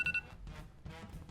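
A short electronic beeping from a game timer running out during a word-guessing show, a couple of quick bright tones at the start followed by faint low rumbles.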